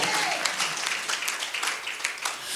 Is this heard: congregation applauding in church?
yes